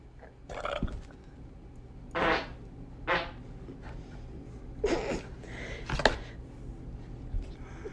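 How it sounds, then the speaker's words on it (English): Fart sounds play back from a video, several short raspy bursts spaced apart over a low background hum, moderately quiet and slightly distant. "Girl farts are weird."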